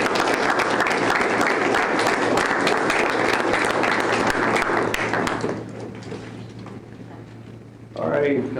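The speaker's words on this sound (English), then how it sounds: "Let's give them a round of applause" Steady, loud applause from an audience at a school board meeting, sustained for over five seconds before easing to softer clapping, with a faint voice near the end.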